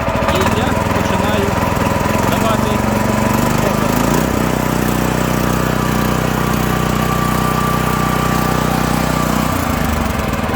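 A small petrol engine (Weima W230F) on a walk-behind tractor runs loudly and steadily at minimum idle, a continuous droning rumble with slight shifts in pitch, no voices.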